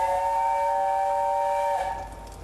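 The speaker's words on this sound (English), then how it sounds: "Let's sound the whistle then." Steam locomotive whistle blows one steady, clear tone, loud and fairly close, with a hiss of steam as it cuts off and fades to quiet background.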